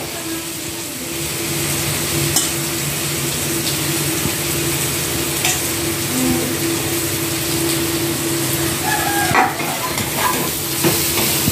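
Ginger paste, garlic, and ground coriander and cumin fry in a pan for biryani, giving a steady moderate sizzle with occasional scraping stirs and a few light clinks.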